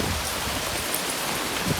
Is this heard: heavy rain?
yes